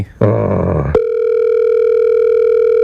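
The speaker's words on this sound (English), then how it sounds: "Let's see if Dave Trainer answers the phone." A phone line during a radio show prank call: a short burst of noisy clatter, then a steady, loud electronic tone that holds unbroken to the end.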